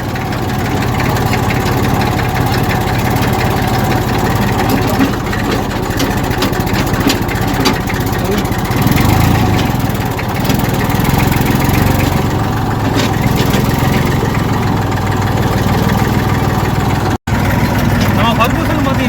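A 1990 Ferguson tractor engine labors up a slope in second gear, a loud continuous diesel drone that holds steady throughout, with someone talking over it.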